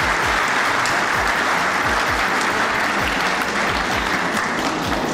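Sustained, loud applause from an audience fills a college prize distribution ceremony at a government postgraduate college in Charsadda, with dense clapping and no pause.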